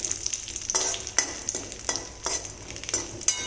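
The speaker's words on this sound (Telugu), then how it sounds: "ఇదిగోనండి, జీడిపప్పు వేగుతోంది" Cashew nuts fry in ghee, a crisp sizzle broken by repeated spoon strokes scraping through the pan in a steady rhythm, close and clear with no talking.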